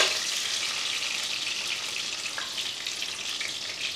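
Small onions fry with fennel seeds in hot oil, giving a continuous bright crackling sizzle that stays steady and close throughout, with no talking.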